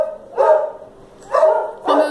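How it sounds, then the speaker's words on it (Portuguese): Three loud, close dog barks in a steady rhythm, each about half a second long, with short quiet gaps between them and no talking. "Meus cachorros participando."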